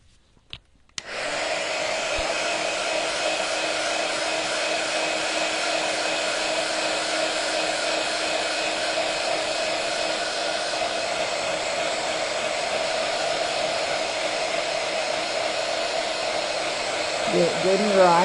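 A hair dryer blows steadily and loudly on a drying craft inlay for a holiday gift book, a continuous whirring airflow that switches on after a brief quiet start and runs without pause.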